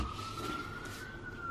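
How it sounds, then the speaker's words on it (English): A steady emergency siren wails at a distance under a wash of street noise, holding one tone throughout, and it sounds fairly faint rather than loud. "Sirens. Really, really loud sirens."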